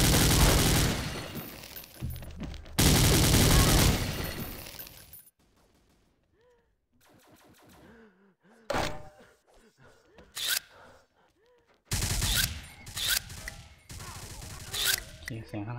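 Gunfire in the XSHOT online shooter, heard as loud stretches of rapid automatic fire broken by quiet gaps, then scattered shorter shots and bursts toward the end.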